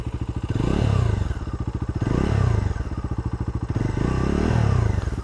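A nearby Bajaj Dominar 250 motorcycle engine with its stock exhaust revs up and down three times in a row, its deep rapid pulse swelling loud over a steady idle.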